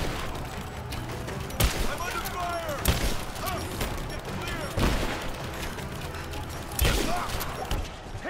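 Gunfire in the video game Rise of the Tomb Raider: repeated loud bursts of rapid shots, spaced every couple of seconds, over a steady bed of game noise.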